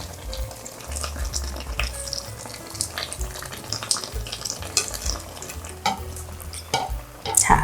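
Kimchi stew with pork ribs boiling in a deep pot, steady bubbling and spattering broth with scattered pops and clinks, close and moderately loud, no voices.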